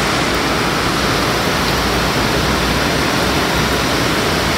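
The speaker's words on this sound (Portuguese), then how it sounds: "Chuva amazonense." Heavy rain pouring down in Manaus, Amazonas, a loud, continuous dense hiss of water falling steadily with no pauses and no voices.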